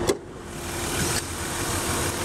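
A 2003 Ford Taurus SEL V6 engine idles steadily nearby, a low smooth rumble with a faint hum, after a brief click at the start.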